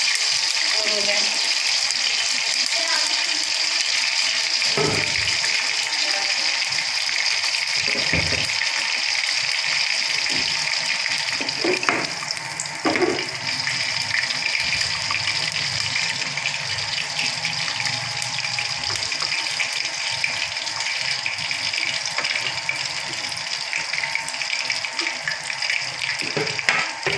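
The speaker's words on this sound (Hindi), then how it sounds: "थोड़ा सा ऑयल गरम हो गया हमारा, इन्हें हम फ्राई करेंगे।" Pakoras, gram-flour fritters for a curry, frying in a pan of hot oil, giving a steady, loud sizzling hiss that runs the whole time with a few soft bumps and clatters.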